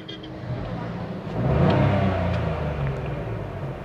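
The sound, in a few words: car engine revving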